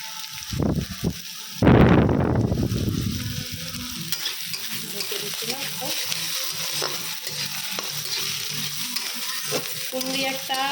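Garlic cloves and green chilies frying in a hot pan, starting with a loud burst of spattering sizzle that settles into a steady crackling fry with occasional stirring scrapes, close by and without talk.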